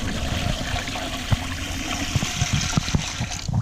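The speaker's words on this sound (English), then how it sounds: "we're going to start by just putting some water in here to start with." Water runs and trickles into a canning pot fitted with a jar rack while fish is being canned, a steady close pour with small splashy bursts toward the end.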